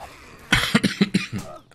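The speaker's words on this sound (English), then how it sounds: "I was coughing." A person coughs at close range, a quick burst of several harsh, rough coughs in a row followed by a brief throat-clearing sound.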